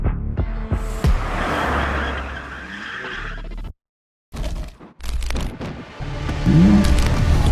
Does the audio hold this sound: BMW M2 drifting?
yes